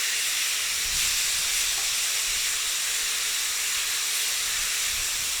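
Meat sizzles in a hot cast iron pan, giving a continuous bright hiss that stays even and close, with no other sounds above it.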